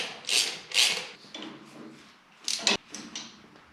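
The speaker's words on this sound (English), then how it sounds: "Get all your bolts started and then you crank them down a little bit." Ratchet cranking down the oil filter bolts on an IH 1066 tractor, a few short bursts of clicking and metallic scraping separated by quiet gaps, close by, with no talking.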